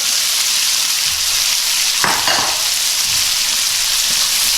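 Shallots sizzle in a hot pan for a shrimp and grits dish, giving a loud, steady, dense hiss broken by a single brief clatter midway, with no voices.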